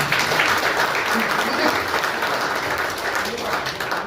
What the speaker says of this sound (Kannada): ಸರಿ, ಒಂದು ಚಪ್ಪಾಳೆ ಜೋರಾಗಿ